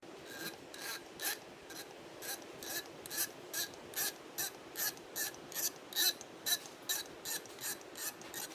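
A ratchet clicks steadily and rhythmically, close by, while running in and tensioning the head bolts on a Toyota 1HZ turbo diesel engine from a 79 Series Landcruiser, with repeated bursts of clicking and no talk.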